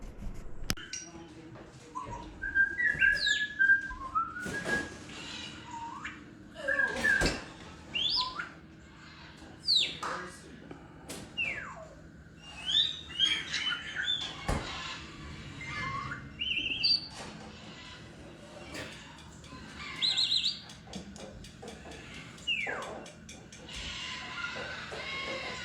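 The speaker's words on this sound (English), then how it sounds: "That was the Moluccan cockatoo that I got" Moluccan cockatoo calling from a played recording, with repeated harsh squawks and chirpy whistles scattered through a busy, roomy background of mixed noise, moderately loud throughout.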